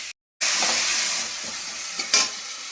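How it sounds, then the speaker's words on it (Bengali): Kohlrabi sautéing beside pieces of catla fish frying in hot oil, a loud, dense, close sizzle after a brief silent gap, with a few stirring scrapes near the end and no voices. "এদিকে মাছগুলো দিয়ে দিয়েছি, আর এদিকে আমি এটা শালগমটা কষাচ্ছি"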